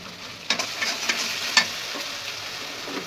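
A bay leaf drops into hot cooking oil and sizzles softly, with a few sharp crackles and pops over a faint, steady frying hiss.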